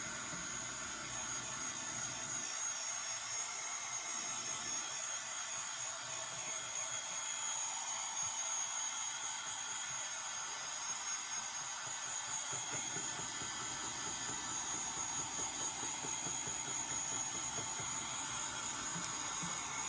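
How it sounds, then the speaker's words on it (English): A handheld embossing heat gun blows continuously for craft work, a steady whirring fan hiss and airflow rumble that stays fairly faint and even throughout, with no talking. "this is actually, I believe this is an embossing gun"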